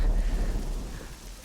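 Rain setting in outdoors as a steady, broad wash of dense rainfall with a low rumble underneath, fairly loud and continuous, with no voices.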